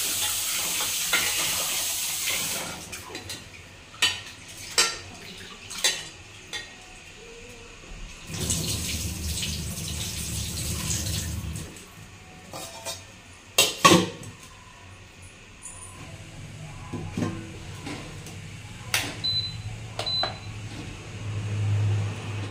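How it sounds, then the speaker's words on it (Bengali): Soaked rice being washed in a pot in a home kitchen, with splashing water, tap flow and clattering of the pot in irregular bursts, close and moderately loud, no talking. "চালটা আমি ভিজিয়ে রেখে গেছিলাম, এখন এটা ধুয়ে ভাত বসিয়ে দিই"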